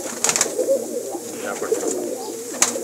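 Teddy-breed pigeons, a blue pair with pearl-eyed and banded markings, coo in a loft, soft murmuring calls rising and falling over a steady low hum, with a few sharper bird chirps breaking through.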